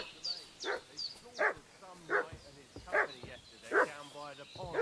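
A dog barking in the video game Kingdom Come Deliverance 2, a run of about six sharp, fairly close barks at an even pace, each with a whining edge, alone without talk.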